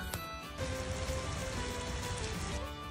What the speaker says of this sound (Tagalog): tuloy-tuloy pa rin talaga ang pagpatak ng ulan dito sa bukid